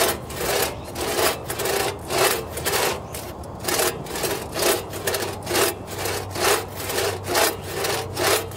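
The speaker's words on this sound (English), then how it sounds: "So when you're sawing, you want to get the full stroke of the saw blade." A hand saw rasps through wood in steady back-and-forth strokes, about two per second, close and unaccompanied by voices.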